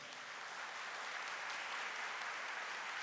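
Steady applause from a church congregation during a Catholic priest's talk on mercy, a dense, even wash of clapping held at moderate level for the whole stretch with no voices over it.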